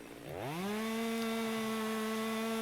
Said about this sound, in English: we use the chainsaw to cut the wood into manageable pieces